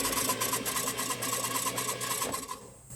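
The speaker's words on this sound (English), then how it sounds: "Now I'll just crank it just for a sec, and you notice the sound's a little different because there's no compression in the engine." An engine cranks with its spark plugs removed and no compression, a fast, even, freely spinning whir with a rapid mechanical pulse, close and steady before cutting off near the end, no talking.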